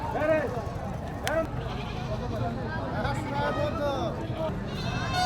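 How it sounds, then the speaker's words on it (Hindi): Goats and sheep bleat repeatedly at a busy rural livestock market in Jharkhand, several overlapping calls near and far over a constant crowd hubbub. "खाली बकरियों का ही मैं आवाज़ सुनाई दे रहा है"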